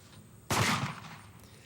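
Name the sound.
shotgun fire at skeet shooting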